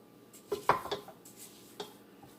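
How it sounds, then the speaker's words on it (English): A spatula scraping the sides and bottom of a mixing bowl of fudge stripe cookie dough, giving a few short scrapes and clinks clustered together, close and moderately loud with no talking. "I'm going to scrape this side down, scrape the bottom, make sure nothing's stuck at the bottom"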